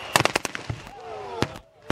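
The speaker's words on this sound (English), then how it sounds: "Oh, the napalm's in." A napalm strike lands in a war video game as a quick run of sharp crackling pops and bursts, with a thin whistling tone sliding between them and a few later isolated cracks.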